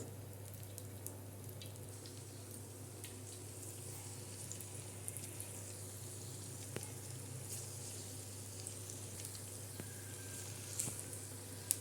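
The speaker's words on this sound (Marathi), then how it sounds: "भजे असे त्याच्यावर टाकणार आहोत तव्यावर" Bhaji fritters made with fresh corn kernels, green chillies, garlic, cumin and onion fry in oil on a flat griddle, giving a steady, soft sizzle with scattered pops and crackles that runs throughout without talk.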